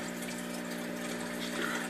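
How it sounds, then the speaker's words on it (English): An aquarium air stone bubbles in a turtle tank, a steady, soft fizzing and gurgling with a faint constant hum underneath. "Oh, I got an air stone over there"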